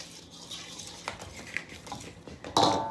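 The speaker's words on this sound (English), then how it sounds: "And then I just always stir it up so it kind of gets incorporated." A utensil stirs baking powder and baking soda into flour in a bowl, giving soft, scattered scraping clinks close by, with a louder clatter near the end.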